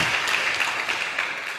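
A school audience at SMA Negeri 1 Sumenep bursts into applause, a brief, loud wash of many hands clapping at once, steady and close throughout.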